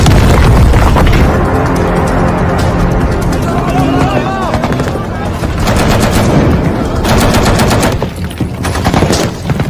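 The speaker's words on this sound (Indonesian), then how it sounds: "Suara tembakan yang tak henti-henti membuat jiwa-jiwa adrenalin dalam diri gua meronta-ronta." Continuous gunfire in a war film: loud, dense automatic weapon bursts and heavy booms run without pause, mixed with shouting voices and battle noise.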